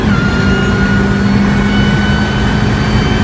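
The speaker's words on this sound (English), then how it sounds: "then the supercharger adds its own mechanical whine on top" Small supercharged car engine running loud and close, a dense steady roar with a thin mechanical whine riding on top throughout.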